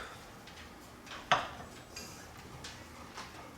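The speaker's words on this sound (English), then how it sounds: "Just putting the lid back on" A metal lid clinks back onto a soup pot holding fish soup with shrimp, one sharp close knock followed by faint kitchen clatter in a quiet room.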